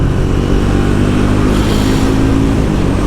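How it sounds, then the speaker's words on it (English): A Triumph Speed 400 motorcycle engine roars steadily and close on the road as the rider accelerates to overtake, a continuous loud buzz with wind noise over three seconds. "Let's go for a wee cheeky overtake."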